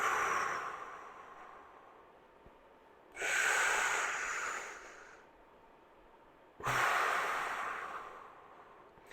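Deep breathing exercise with rib expansion: two slow, loud, airy breaths drawn close to the microphone, each a sustained rushing inhale-exhale of several seconds separated by quieter pauses.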